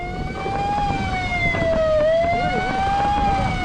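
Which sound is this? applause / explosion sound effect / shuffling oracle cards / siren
siren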